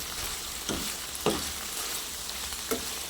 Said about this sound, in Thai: ตามด้วยน้ำมันหอยกะเอานะคะ เพื่อนประมาณหนึ่งช้อนโต๊ะ นี่นะคะ คนให้เข้ากันเลย